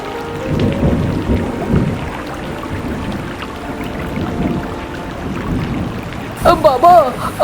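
Heavy rain pours and thunder rumbles in an animated Hindi story about crows in a boat caught in a storm; the storm sound is steady and loud, and a voice cuts in near the end.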